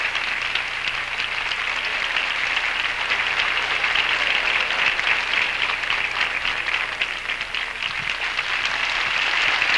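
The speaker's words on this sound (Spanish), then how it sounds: "el aplauso de ustedes para él y para ella" A full audience at the Miss South America 1986 pageant applauds the ambassador, with dense, steady clapping that stays loud and even throughout without any talk.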